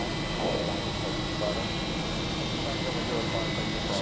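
The Avro Vulcan XL426 jet bomber taxis on an airfield, making a steady broadband whine and rumble with faint talk underneath.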